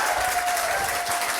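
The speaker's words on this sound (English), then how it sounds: "let's have a round of applause for Matt and all of our speakers." A brief, loud round of audience applause at a Nerd Nite talk event on print making, a steady wash of clapping from the whole room.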